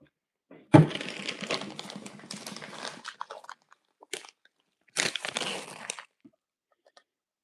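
Someone eating mayo takes loud, close crunchy bites, a burst of chewing followed by a pause and then a second shorter round of crunches.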